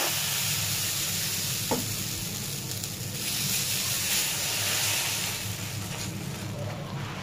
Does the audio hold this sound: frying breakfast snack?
yes